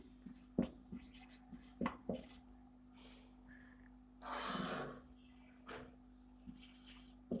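A marker or chalk writes on a board in a classroom lesson, giving a few short, sparse taps and squeaky strokes with quiet gaps and one longer breathy scrape.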